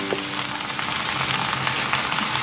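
Steady crackling sizzle of eggplant frying in a pan with stewed vegetables, close and even, with a faint soft knock or two of stirring and no talking.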